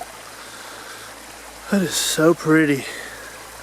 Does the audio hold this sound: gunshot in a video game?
no